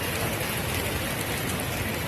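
Rain falls on a monsoon day as a dense, even hiss that stays steady and close for a couple of seconds, with no voices over it.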